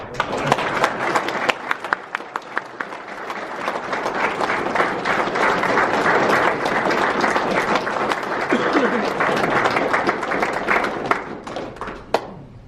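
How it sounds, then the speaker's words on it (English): Sustained audience applause at a Masonic lodge officers' installation ceremony, a dense, loud wash of many hands clapping that swells and holds steady for over ten seconds, with a few sharper claps near the end. "I think we can applaud."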